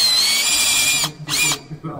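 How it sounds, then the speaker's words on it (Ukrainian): A power screwdriver drives screws in a workshop with a loud, steady high whine that stops, starts again briefly, then cuts out, as a voice speaks underneath. "Коли шеф береться до справи, будь-які шурупи кручуються"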